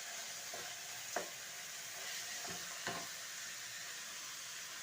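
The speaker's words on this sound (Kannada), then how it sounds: "ಟೊಮೆಟೊ ಹಾಕಿ ಸ್ವಲ್ಪ ಚೆನ್ನಾಗಿ ಫ್ರೈ ಮಾಡ್ಕೊಳ್ಳೋಣ." Tomatoes frying in a pan for oggarane rice make a steady, close sizzle, broken by a few soft scrapes of stirring; no voices.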